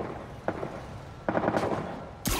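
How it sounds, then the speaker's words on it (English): Bursts of gunfire ring out in the video game Marvel's Spider-Man, several short rapid volleys spread across a couple of seconds at moderate loudness, with a sharper blast at the end and no one talking. "Shooting's happening up there."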